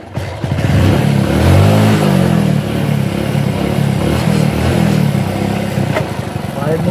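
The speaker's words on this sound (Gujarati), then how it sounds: "હું મારો ભોણો બાઇક લઈને જાય" A motorcycle carrying a rider and passenger revs and rides close by, its loud engine droning steadily with rising and falling pitch and some rattling, while people talk over it.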